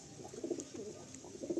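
Soft, repeated cooing of pigeons kept for sale, several low burbling calls overlapping in a steady murmur, fairly close and moderately quiet.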